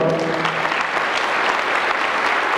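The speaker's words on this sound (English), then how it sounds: "Give them a round of applause, by the way." An audience at a United Way campaign kickoff event claps for the caterer in a sustained, even round of applause, with a few faint voices at the start.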